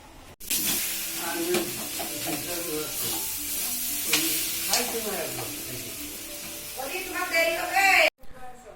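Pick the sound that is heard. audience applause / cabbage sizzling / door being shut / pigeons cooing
cabbage sizzling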